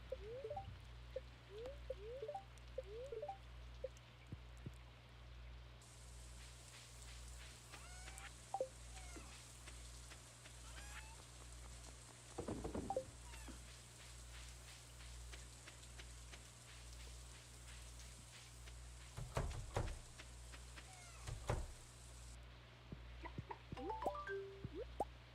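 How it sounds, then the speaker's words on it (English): Soft rain in the game Stardew Valley patters and drips faintly against a low steady hum, with occasional louder plops and splashes scattered through. "Alright, it's raining."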